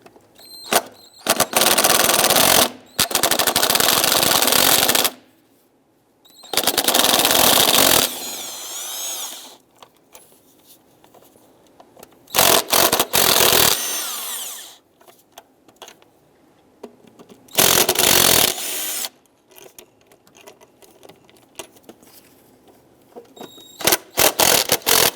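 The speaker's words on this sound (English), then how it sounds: "there are going to be 4 8mm screws holding the throttle body on. Let's go ahead, loosen and remove those." A power tool loosening and removing four 8mm throttle body screws on a 2002-2008 Dodge RAM, several loud whirring bursts of a few seconds each separated by quiet gaps, close up with no talking.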